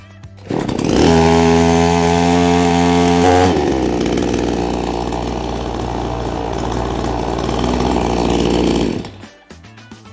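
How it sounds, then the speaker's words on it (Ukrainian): A Dnipro-M gasoline chainsaw engine catches with the choke open and roars to life, revving high before settling into a steady idle, then cutting off near the end. "Тепер відкриваємо повітряну заслінку та заводимо пилу ще раз."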